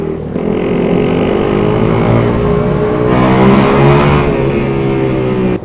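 A Bajaj Rouser NS200 motorcycle engine runs loud and close, holding a steady throaty drone with a slight rise partway through before cutting off at the end.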